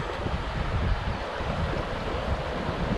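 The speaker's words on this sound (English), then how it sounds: "it's a pretty good rapid, and if the water's high, it'll be kind of fun to hit it" Steady, dense rushing of a river rapid in Idaho with a constant broadband roar, loud and close, with no voices over it.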